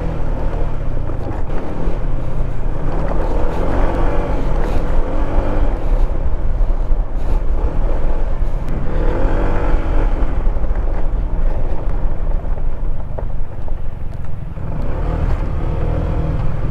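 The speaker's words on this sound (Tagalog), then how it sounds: "para masisira na yung motor ko" A motorcycle rides over a rough, potholed road near Cotomines in Masinloc, Zambales, with a steady engine rumble, jolting knocks and heavy wind buffeting on the microphone throughout.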